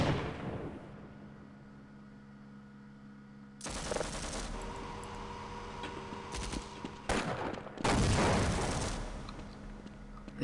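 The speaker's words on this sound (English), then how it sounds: "who is shooting?" Gunfire in the Half-Life video game: sharp, loud bursts of shots come in two clusters after a quieter stretch of rumbling ambience, the second burst heavier and lasting a couple of seconds.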